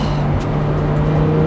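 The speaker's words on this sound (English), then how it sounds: "I hope the microphone can pick up the exhaust, because that's the main part of the experience, is hearing that V10 scream" An Audi R8 V10 Spyder supercar's engine and exhaust hum as a steady, droning note, heard close and unbroken for a moment with no talk.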